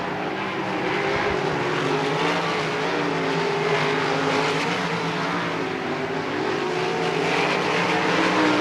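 Race cars roar around Lernerville Speedway on the final lap of an opening-night race, with a loud sustained engine drone that swells and shifts in pitch as the cars pass. No one speaks.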